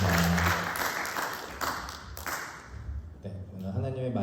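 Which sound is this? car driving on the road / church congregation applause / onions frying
church congregation applause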